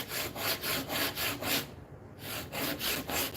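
Rhythmic back-and-forth rasping of 60-grit sandpaper on a wooden mallet, about a dozen even strokes with a brief pause partway through, close and fairly quiet.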